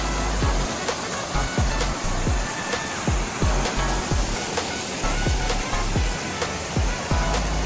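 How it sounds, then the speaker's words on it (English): Ten-foot backyard pond waterfall spilling over two giant rocks, a steady broadband rush of falling water punctuated by repeated low thumps, continuous and close with no voices. "that's a 10-foot high waterfalls that we built with 2 giant frame rocks"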